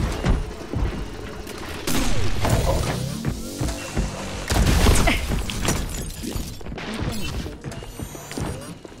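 Enemy turret guns in an NES game fire off a burst of sharp, crashing impacts and bangs, dense and irregular, with loud hits clustered around the middle amid other game noise.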